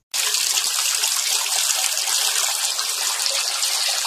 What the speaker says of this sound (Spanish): Se escucha el agua corriendo donde nace el agua.